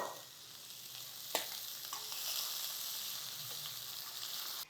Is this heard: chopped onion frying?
yes